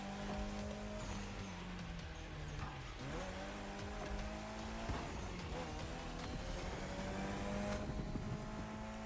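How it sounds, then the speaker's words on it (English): A Mitsubishi Lancer Evo X in The Crew Motorfest slides on all four tires with steady engine drone and repeated squealing, skidding tire noise, loud and continuous throughout. "All four tires are sliding like I'm on fucking ice."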